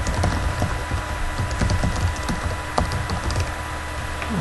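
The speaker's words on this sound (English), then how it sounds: "you can type in the email" Rapid keystrokes on a computer keyboard while typing an email address into a page editor, a dense, close run of light clicks over a steady background hiss.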